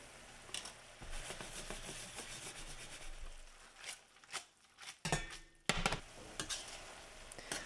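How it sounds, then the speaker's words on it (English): A utensil scraping and dragging across the bottom of a pan of spaghetti alle vongole, with irregular bursts of metallic scraping and clinks over a soft simmer, fairly close and with no talking. "I'm dragging my utensil across the bottom of the pan here to check that thickness again"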